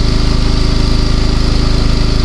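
A parked vehicle's engine idles with its back doors left open, a steady, loud, even mechanical thrum with a regular low pulse throughout and no talking.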